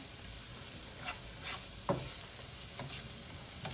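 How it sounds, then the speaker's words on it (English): Onions and garlic frying in hot oil give a steady soft sizzle, with faint occasional stirring taps over the continuous hiss. The sound is quiet and close, and no one speaks. "This is just to cook the onions, get some flavor in the oil."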